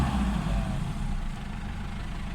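A Mitsubishi Adventure engine with a faulty RPM gauge runs steadily at idle, a close, even low rumble that holds without a break and drops slightly in level partway through.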